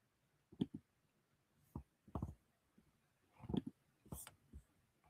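Computer mouse clicks, quiet and close, landing as a handful of irregular single and double taps spread across the stretch in a hushed room.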